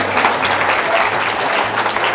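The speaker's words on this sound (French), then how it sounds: "Bravo, applaudissements." Steady applause from a crowd of participants at the awards of the 4th Tour de Belle-Île sailing race, dense and sustained throughout with a low hum beneath.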